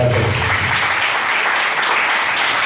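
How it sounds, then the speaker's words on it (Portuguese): A church congregation applauds loudly, a dense, steady wash of clapping that fills the room from start to finish with little else heard. "Aplauda bem forte,"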